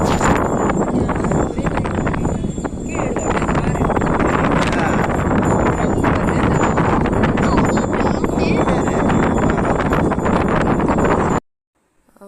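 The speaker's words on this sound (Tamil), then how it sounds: "நல்லா காற்று வேற அடிச்சுதுங்க அதுவும் நல்லா கேட்கும்" Strong wind roars without a break across a hilltop at the Puthupakkam hill Anjaneyar temple, buffeting the microphone loudly the whole time before cutting off abruptly at the end.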